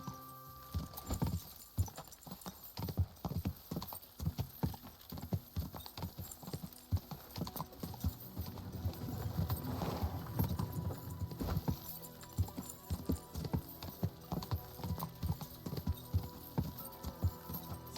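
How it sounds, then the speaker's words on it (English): Horse hooves clip-clopping in steady rhythm in the video game Kingdom Come: Deliverance II, with a whinny near the middle; close and moderately loud, without speech. "Easy, good horse."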